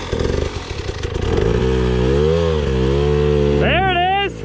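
A dirt bike engine revs hard and holds a high steady whine as the rear wheel spins in mud, rising sharply again near the end, loud and close.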